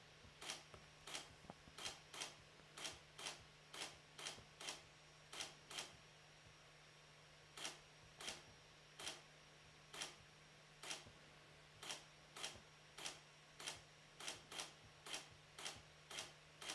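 A camera shutter at an observatory night session clicks again and again in an irregular series of sharp, faint snaps, with a low steady hum beneath and no talking.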